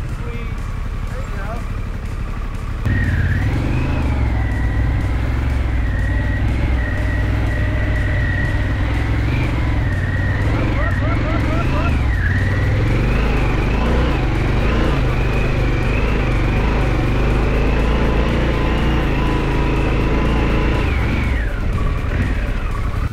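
A 2021 Harley-Davidson Pan America Special adventure motorcycle rides through Southern California desert terrain, its engine droning loud and steady with rising and falling revs across the stretch after a short quieter opening.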